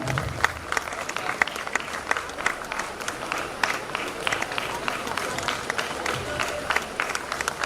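Audience applause at a university golden jubilee celebration as a student receives a memento, loud crowded clapping with sharp individual claps throughout, with chatter or movement mixed in.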